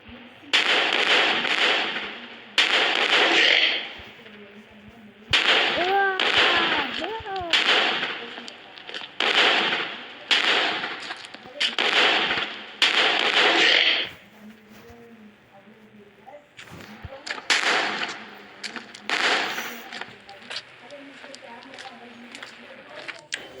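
Repeated rocket launcher blasts fired at zombies in a video game, loud bursts in rapid clusters with crackling explosive tails, broken by brief pauses and a quieter stretch midway.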